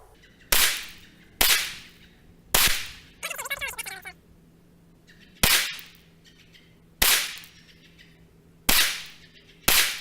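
A Rock Island 1911 .45 caliber pistol firing 230 grain rounds left-handed at an outdoor range, with seven loud, evenly spaced shots each trailing a short echo and a brief rattle between the third and fourth.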